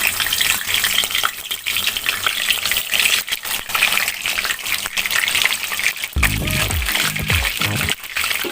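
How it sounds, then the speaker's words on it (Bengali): Marinated chicken pieces for a chicken roast dropping into hot oil, with a loud, steady broadband frying sizzle throughout and a few bursts as pieces go in near the end. "এখন আমার তেলটা গরম হয়ে গিয়েছে, আস্তে আস্তে করে মুরগির মাংসটাকে দিয়ে দেব।"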